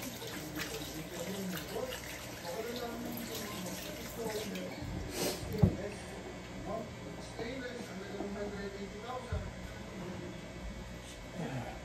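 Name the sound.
running tap water for cooking tocino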